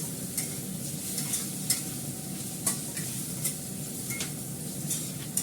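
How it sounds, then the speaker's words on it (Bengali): Onion and potato fry in a pan with a constant crackling sizzle while a utensil stirs them, scraping and lightly clinking against the pan every second or so. "আমার পেঁয়াজটা আলুটা ভাজা হয়ে গেছে"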